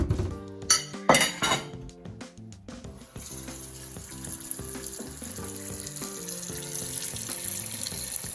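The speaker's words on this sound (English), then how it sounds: "I'm just going to take them over to the sink and drain them off." Cooked beetroot is drained from a pot at a kitchen sink: a few loud metallic clanks and clinks of the pot come first, followed by a steady run of pouring, splashing water.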